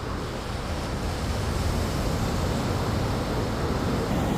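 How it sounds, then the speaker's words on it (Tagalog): Continuous wash of sea waves and surf, a steady broadband roar with gentle swells, fairly close and uninterrupted, no voices. "Madungog ninyo ang tingog sa dagat."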